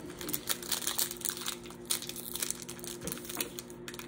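A Pokémon Astral Radiance card pack is torn open and handled, its foil wrapper crinkling and crackling up close in irregular bursts, with a steady hum underneath.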